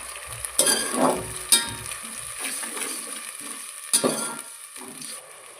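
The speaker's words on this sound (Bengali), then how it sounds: "পেঁয়াজটা আমার ভাজা ভাজা হয়ে গেছে, রঙটাও চেঞ্জ হয়ে গেছে। এর ভেতর দিয়ে দেবো আদা রসুন পেঁয়াজ" Browned onions sizzle in a pan as ginger-garlic-onion paste goes in for Hyderabadi chicken tehari, with a few loud scraping stirs and clanks over a quieter frying hiss.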